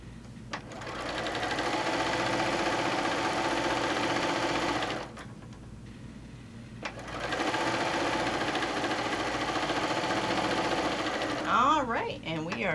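Sewing machine running steadily as it stitches quilt tacks through a layer-cake quilt, a loud continuous whir in two long runs with a short pause between, ending in a few quick mechanical clicks.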